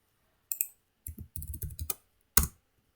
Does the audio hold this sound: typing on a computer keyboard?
yes